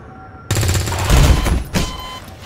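XCOM 2 gunfire erupts suddenly in a loud, rapid automatic burst lasting over a second, followed by a shorter second burst, close and harsh.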